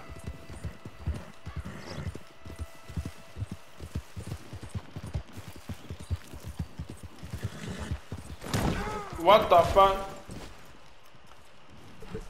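Horse hooves clip-clop in a quick, rhythmic gallop in Red Dead Redemption 2, joined near the end by a louder whinny and scrambling, with a man's brief exclamation over it.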